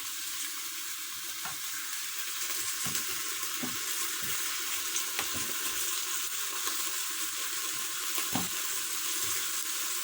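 A steady sizzle as vegetables, including carrots, are poured into a hot pot of oil, with occasional soft clinks and stirring sounds over the constant frying hiss.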